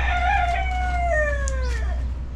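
A rooster crows outdoors in the early morning on Boracay in the Philippines, one long drawn-out call with a falling tail, loud and fairly close over a steady low hum.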